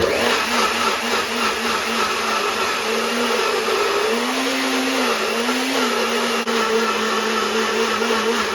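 Blender whirring as it purees tomato paste with water, a steady loud motor drone throughout with a slight pitch shift midway as the load changes.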